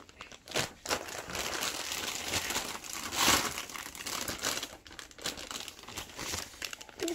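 A bag of potting soil crinkles and rustles steadily up close, plastic crackling throughout with a sharper crunch midway, no voices.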